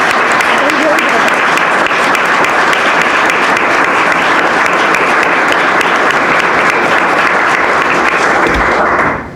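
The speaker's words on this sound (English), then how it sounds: "Let's give our candidates another round of applause" Loud, close applause from a gala audience for the candidates of a shad derby event, dense continuous clapping for about nine seconds before it stops.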